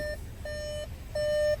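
VW/Audi car warning chime prompting the driver to shift into park: three evenly spaced clear electronic beeps, the last one held longer, sounding close inside the cabin.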